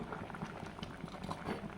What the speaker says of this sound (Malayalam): അപ്പോൾ കറി നന്നായി തിളച്ച് വരുന്നുണ്ട്